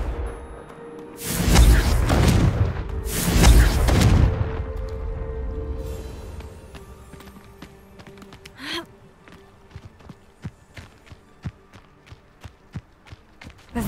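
Confringo fire spells explode in Hogwarts Legacy: two loud, booming blasts in quick succession, followed by quieter sharp clicks and taps that trail off.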